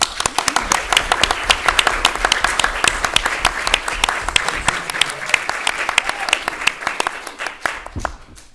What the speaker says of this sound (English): Can we get a little round of applause for that, please?